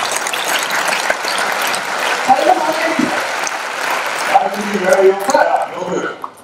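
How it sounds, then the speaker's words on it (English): Lecture audience applauding on a Saturday evening, a dense wash of clapping running throughout with some voices and rustle mixed in, fairly close and steady before tapering near the end. "Give a huge round of applause."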